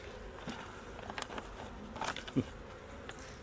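Honeybees buzz softly and continuously at an opened hive, with a few faint taps and brief louder buzzes as insects move close.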